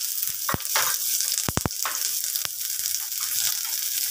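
Onion goes into a pan with butter for a sweet baby corn soup and sizzles steadily up close, with a few sharp clicks and knocks from stirring or the utensil partway through.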